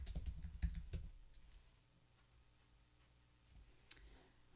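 Quick, quiet keyboard clicks patter for about a second, then a few faint isolated taps follow in near silence.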